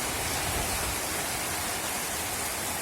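Water rushes in a loud, unbroken flow during irrigation, a dense steady hiss close by with no voices.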